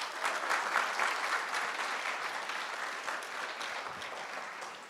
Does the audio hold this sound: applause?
yes